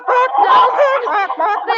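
Hens cluck and squawk continuously up close, a busy, agitated chorus of fowl with no pauses.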